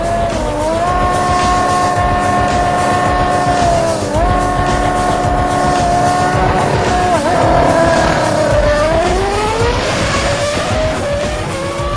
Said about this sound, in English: This time, Button gets a better start and manages to pull away at the halfway point to take the win in 9 seconds